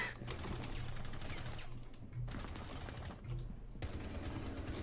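Video game firing squad gunfire: dense, rapid bursts of rifle shots in several volleys separated by short gaps, loud and close, with no voices.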